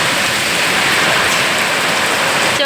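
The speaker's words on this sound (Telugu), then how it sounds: "చూడండి ఫ్రెండ్స్ ఎంత గాలి ఎంత వాన" Heavy rain lashes down in Andhra under strong wind, a loud, unbroken hiss of water pounding surfaces, close and steady without letup.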